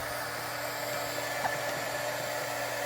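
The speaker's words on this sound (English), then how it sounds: "now it's going to get a little loud in here because I'm going to turn on my heat gun" A heat gun runs continuously close by, a steady loud whirring blower hum with a constant tone throughout.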